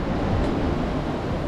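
Ocean waves wash steadily onto a beach in Bali, a continuous broadband roar of surf with some wind noise and no voices.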